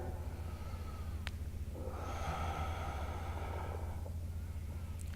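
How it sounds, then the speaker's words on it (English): Slow, deep yoga breathing during a morning flow, a soft airy inhale or exhale swelling in the middle over a low steady hum, close and faint, no talking. "2 more deep breaths, in and out"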